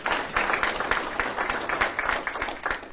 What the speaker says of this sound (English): how about a round of applause for those watching virtually